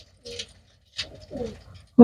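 Caged pigeons give a few brief, low coos separated by short pauses, close by and fairly quiet, ending with a sudden louder burst.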